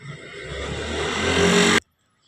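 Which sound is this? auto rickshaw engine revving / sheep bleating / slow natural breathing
auto rickshaw engine revving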